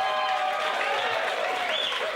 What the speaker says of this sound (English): Start clapping for Mark Renzel.